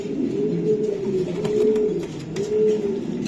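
Racing pigeons cooing close by, their soft, low, rolling coos repeating in a steady rhythm over a constant background hum.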